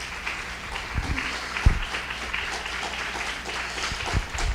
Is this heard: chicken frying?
no